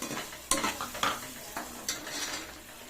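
Onions, green chillies and peas stir-fried in a pan for fried rice: about five scraping spatula strokes over a steady close sizzle, with no voices.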